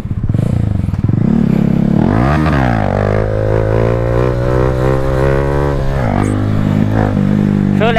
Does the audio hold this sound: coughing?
no